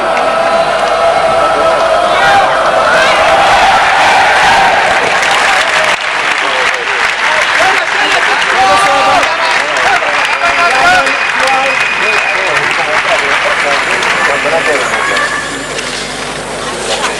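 Polish crowd at the 2006 World Championship badminton mixed doubles round of sixteen gives sustained, dense applause that fills the hall, with a commentator talking over it.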